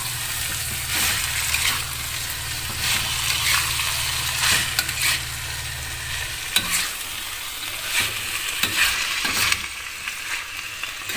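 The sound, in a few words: stir-frying ingredients in a pan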